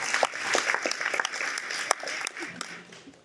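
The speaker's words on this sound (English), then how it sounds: "let's give her a round of applause." Scattered, moderately loud clapping from a youth summit audience in Taiwan, uneven and thinning out toward the end, with some voices mixed in underneath.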